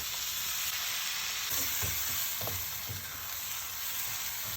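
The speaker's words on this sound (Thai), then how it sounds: "ผัดต่อไปเรื่อยๆ จนเนื้อหมูสับสุกสีสวย แล้วใส่หน่อไม้ที่ต้มพักไ ว้ ผัดให้เข้ากัน" Minced pork and boiled bamboo shoots are stir-fried together in a pan for a glass-noodle basil pork dish, giving a continuous dense frying hiss with intermittent low scrapes and knocks of stirring.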